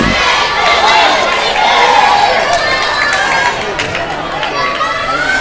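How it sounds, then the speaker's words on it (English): Crowd on the Velma side cheering at a high school basketball game, a loud continuous roar of voices and shouts filling the gym without a break. "crowd over here on the Velma side likes what they're seeing"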